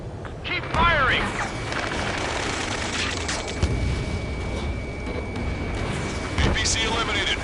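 Video game battle on PS4 with dense, continuous gunfire and booming explosions, a rumbling barrage that rarely lets up, while in-game voices talk over it.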